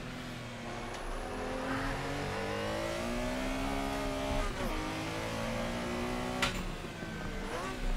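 Porsche Carrera race cars in the Assetto Corsa racing game drone with engines rising and falling through the gears, another car close behind, a sustained mid-pitched roar with brief shifts and revs.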